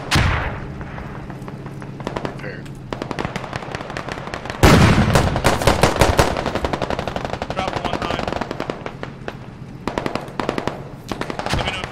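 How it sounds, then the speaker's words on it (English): Heavy gunfire rattles through the video game Squad, with rapid automatic bursts and single cracks, some near and some distant. It grows louder midway and is joined by occasional talk. "careful, we're taking fire"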